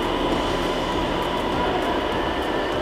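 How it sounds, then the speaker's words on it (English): Ambience at Copenhagen Central train station: a steady rumble of trains and rail noise with a constant hiss and hum, even and moderately loud throughout with no clear voices. "this is the Copenhagen Central train station"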